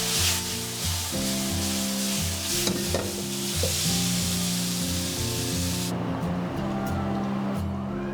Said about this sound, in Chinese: 我们加入芦笋跟这个百合，给它爆炒个20秒左右